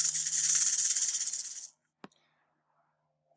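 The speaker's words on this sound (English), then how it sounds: "Sound of a snake, a rattlesnake." A rattlesnake rattles in a steady, dense buzz for under two seconds, then stops abruptly; a single sharp click follows in near silence.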